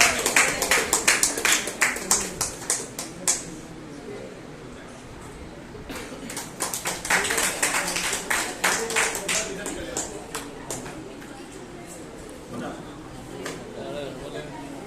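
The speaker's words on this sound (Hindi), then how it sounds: "तालियों के साथ स्वागत कीजिए आप लोग अभय कुमार पांडे जी का" An audience claps to welcome a speaker at a gathering: scattered, uneven hand claps that swell and fade in bursts, with voices mixed in underneath.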